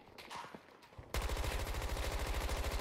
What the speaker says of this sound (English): Sniper shooting at me.